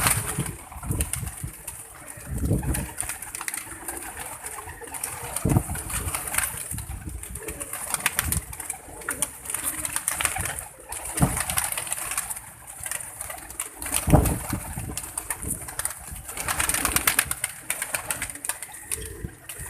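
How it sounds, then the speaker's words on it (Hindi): Pigeons cooing in a loft while being fed, with soft repeated coos, wing flaps as birds drop down from perches, and light scattered feed rattles, fairly close and continuous. "आए इन्हें फीड डालना शुरू करते हैं ताकि और बर्ड जो ऊपर बैठे हुए मेरे वो भी नीचे उतरें"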